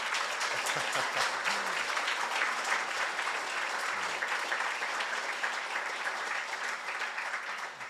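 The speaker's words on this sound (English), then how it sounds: "Let's give Sarah a round of applause" A seated crowd indoors at an Edmund Fitzgerald memorial ceremony gives sustained applause, a smooth, even roar of clapping that stays level and fades slightly at the very end.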